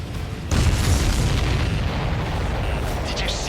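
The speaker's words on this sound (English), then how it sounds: "Did you see that explosion?" A heavy boom bursts in abruptly at half a second during a combat flight in the video game Ace Combat 7, a loud explosion that then rolls on as a sustained rumble under engine roar for the rest of the clip.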